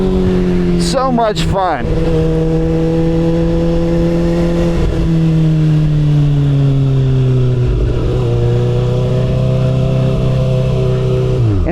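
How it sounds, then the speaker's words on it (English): Kawasaki ZX6R 636 motorcycle engine pulling a power wheelie through a dip in the road: a loud, sustained rev that rises and sags with the throttle, close up. A rider briefly speaks over it. "Little power wheelie coming through that little dip in the road."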